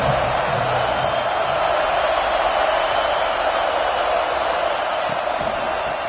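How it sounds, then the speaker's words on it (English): A college football stadium crowd roars as a steady, loud, dense wall of noise, with no distinct claps or shouts standing out. "This crowd ready to make its presence known."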